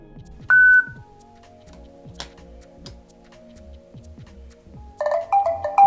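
A Realme C31 smartphone gives a short, clear tone as an NFC contactless payment registers. Steady ticking runs underneath, and a second burst of beeps comes near the end.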